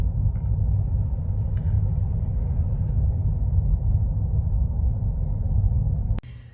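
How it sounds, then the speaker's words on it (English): Backed-up road traffic gives a steady low engine rumble, dense and unbroken, that cuts off abruptly near the end. "All the traffic backed up."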